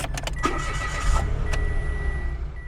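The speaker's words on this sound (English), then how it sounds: "Let's turn the car on here and you can listen to what it sounds like whenever it starts up." A 2024 Mitsubishi Mirage Black Edition with a 3-cylinder engine cranks with a few quick starter clicks, then catches and settles into a steady, close idle hum.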